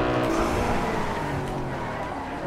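Car skidding around a curve in GTA 5: a loud, sustained engine roar with a smeared, squealing tire tone, slowly easing off toward the end.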